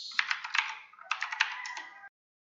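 Rapid keystrokes on a computer keyboard as a command is entered into a command prompt, two quick bursts of clicky taps, close and fairly loud, with no talking.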